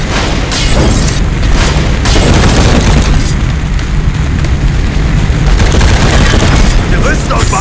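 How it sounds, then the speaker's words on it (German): A grenade explodes in a team deathmatch shooter game, a heavy, loud boom buried in a dense, continuous barrage of gunfire and battle noise. "Granate in Deckung!"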